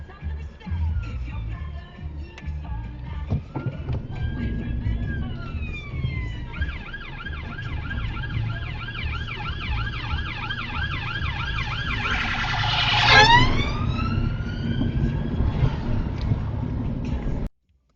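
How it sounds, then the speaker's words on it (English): A police siren wails and yelps as it approaches and sweeps past over steady road traffic, rising to a peak then fading, with people talking underneath. "Police car coming the other way this time."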